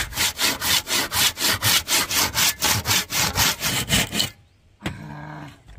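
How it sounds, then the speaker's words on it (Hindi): A hand saw cuts wood for a bamboo house with about fourteen quick, even back-and-forth strokes, loud and close, then stops and leaves a fainter rasp after a short pause. "ये देखिए एकदम आरी से मस्त काट रहे हैं"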